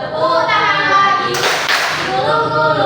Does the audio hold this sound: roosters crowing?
no